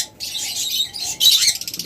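Pet birds kept in pairs for sale chirp and tweet in quick, overlapping high calls, close and fairly loud, with a short gap near the start and bursts of rapid chirping.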